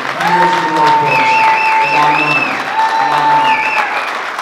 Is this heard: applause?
yes